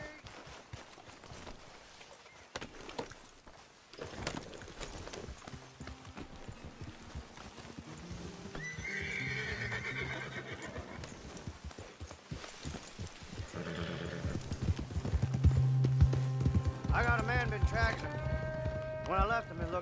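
Horse hooves clatter in a steady rhythm in Red Dead Redemption 2 Online while people talk over them, with a horse whinnying and game music rising toward the end.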